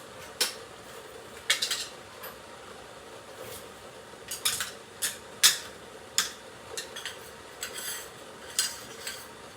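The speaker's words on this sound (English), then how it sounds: "I'm going to go ahead and get my tins ready." Small metal salve tins are handled and set out on a surface, giving a series of light, irregular clinks and taps, close by and fairly quiet, with short pauses between them.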